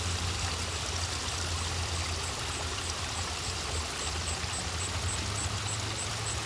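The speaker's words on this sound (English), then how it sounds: "Not far upstream is the main dam on the brook. It is really holding water back now." Steady rushing water spilling over the main dam on a brook, a continuous broad wash heard close and moderately loud with no voices.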